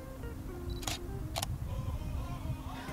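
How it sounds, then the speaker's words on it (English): Canon EOS 650D (Rebel T4i) firing its shutter through touch-screen shutter mode, two crisp close mechanical clicks about half a second apart over a quiet room. "Now if I touch the screen, it's going to focus and fire the shutter."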